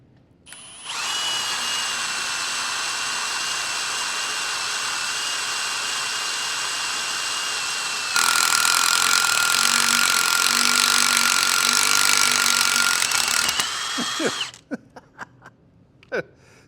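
An impact drill with HMT tooling grinds through steel steadily close by for about fourteen seconds, its pitch jumping higher and louder partway through, then winds down into a few clanks.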